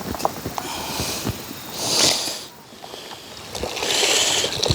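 A car wash mitt is rinsed in a bucket of water, with close sloshing and splashing in two surging bursts and small drips and knocks between them.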